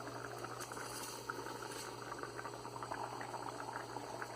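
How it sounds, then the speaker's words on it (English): Water boiling in a pot for basmati rice, a soft steady bubbling and gurgling with faint simmering pops, heard alone at low level. "when the water starts boiling, strain and add the basmati rice into it"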